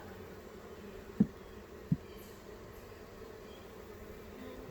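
Honeybees in a failing hive of aging workers hum with a low, steady drone, close and moderately quiet, with two brief louder buzzes as bees pass near.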